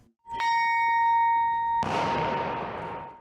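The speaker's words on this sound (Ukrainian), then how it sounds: "У меморіальному сквері пролунав за ними дзвін пам'яті." A single memorial bell tolls in a memorial square with a sustained ringing tone, then a loud broadband crash joins and slowly decays.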